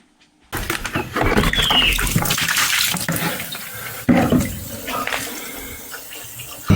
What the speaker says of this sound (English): That drain is supposed to take away this water, but it doesn't.